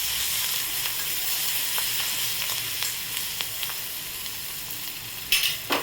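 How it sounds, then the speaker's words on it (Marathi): A spiced mixture of turmeric, chili powder, coriander leaves and salt sizzles steadily in a pan for a tangy raw-mango salad, with a few soft stirring clicks and a sharper burst of frying near the end. "त्याला परतून घ्यायचं"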